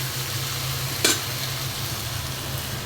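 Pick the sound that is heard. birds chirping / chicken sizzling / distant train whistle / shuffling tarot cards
chicken sizzling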